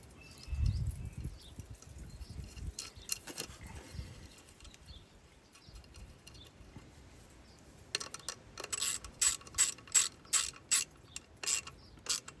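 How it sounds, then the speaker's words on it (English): Wrench ratcheting while a nut on a Case 730 Comfort King tractor is tightened during points and condenser work: close mechanical clicks, with a rapid run of sharp, evenly spaced ratchet strokes toward the end. "Tighten up that nut."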